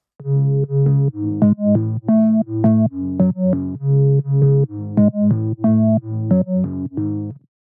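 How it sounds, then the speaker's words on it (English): An organ plays a short, rhythmic run of bright, sustained chords, each note held briefly before the next in a bouncy pattern. "Then we've got this organ that's in the intro,"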